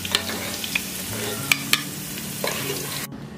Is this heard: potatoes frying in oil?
yes